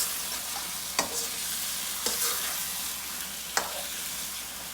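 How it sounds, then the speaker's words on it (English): Spices stirred into onion frying in a pan for a British Indian restaurant-style chicken curry, a steady close sizzle broken by three sharp spoon clicks against the pan, with no talking. "mixing these spices,"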